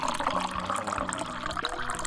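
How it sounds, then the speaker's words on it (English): Water runs and splashes continuously for about two seconds in the video game Getting Over It, fairly loud and close, with faint tonal background sounds underneath. "Water."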